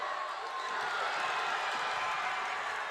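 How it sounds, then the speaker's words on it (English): Crowd in a women's college basketball arena during a semifinal game: a loud, continuous roar of many voices filling the space, steady with no distinct words or clapping standing out. "And listen to this crowd."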